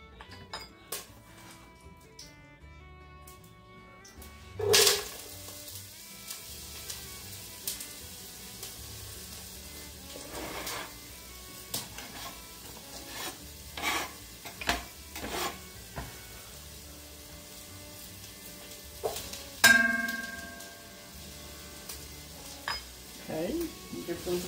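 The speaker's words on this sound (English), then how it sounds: "We're going to add our chopped onions." Chopped onions hiss and sizzle in a hot pan for a chili, with steady frying crackle broken by several sharper scrapes and clanks of a spoon stirring against the pan.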